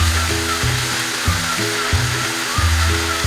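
Chili garlic gravy for Hyderabadi chicken 65 fries loudly in a pan as a steady, dense sizzle close up, with a low rhythmic mechanical hum pulsing underneath and no talk.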